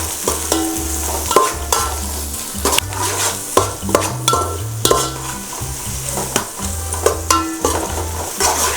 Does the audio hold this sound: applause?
no